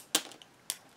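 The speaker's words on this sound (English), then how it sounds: "I wonder if I could cut it off down here." Scissors snip through thin plastic from a recycled item, two sharp separate cuts with small rustles between them, close and fairly quiet.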